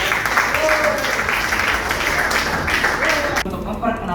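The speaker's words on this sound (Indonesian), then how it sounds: "kita berikan aplaus untuk kelompok 2" A classroom audience applauds a student presentation group, steady dense clapping that fills the room loudly throughout and stops abruptly near the end, with voices mixed in under it.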